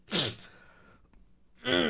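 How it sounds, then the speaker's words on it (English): Two loud, close human sneezes, a sharp burst at the start and another near the end, separated by a brief quiet breathy pause. "Oh god, I need to sneeze."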